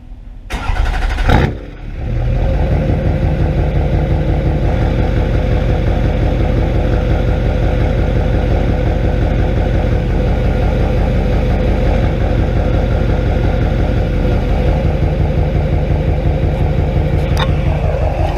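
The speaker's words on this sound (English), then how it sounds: "So let me go ahead and fire this thing up for you guys." A loud straight-piped truck engine cranks, catches and settles into a heavy, rumbling idle with a raw, throaty exhaust that runs on steadily, close and unmuffled.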